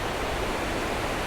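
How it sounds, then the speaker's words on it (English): Flood water rushes down the Ping River near Chiang Mai, a loud, broad, continuous roar of churning water with no break. "The water comes down and just washes all of their salas away."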